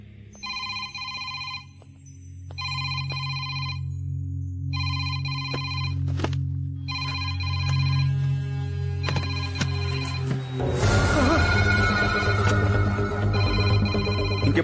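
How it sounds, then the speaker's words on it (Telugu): A telephone rings in repeated evenly spaced electronic bursts, fairly loud, over a low droning music bed that swells into a dramatic orchestral hit near the end. "రింగ్ అవుతుంది కానీ ఎవరు ఎత్తట్లేదురా"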